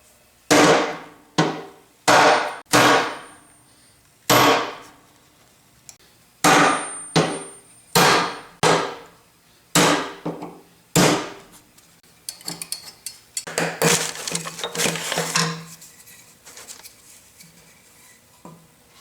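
Sharp metallic ball peen hammer strikes on a punch, driving roll pins out of pinions on a Yates American B244 machine table, ring out one at a time at an uneven pace, then a quicker flurry of lighter taps.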